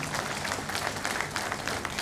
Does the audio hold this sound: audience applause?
yes